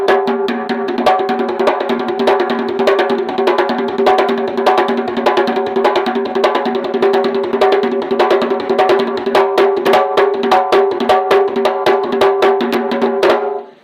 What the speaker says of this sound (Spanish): Y suena así la danza de la puya.